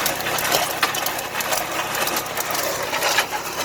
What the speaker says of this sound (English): we are trying out the mud mixer for the very first time